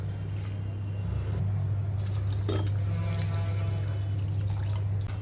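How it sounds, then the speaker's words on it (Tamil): Water streams steadily from close by into a pot of mutton bones and dal for a dalcha, a continuous pouring splash with light dripping and no voices. "இப்போ கறியும் பருப்பும் முழுகிற அளவுக்கு தண்ணி ஊற்றிக்கலாம்"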